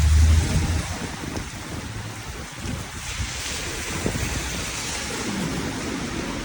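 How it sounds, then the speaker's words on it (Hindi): Heavy rain in Barcelona, Spain roars steadily with wind buffeting the microphone, a dense, loud wash of noise with no voices. "अभी मैं निकली हूँ और बारिश देखें कितनी तेज़ हो रही है।"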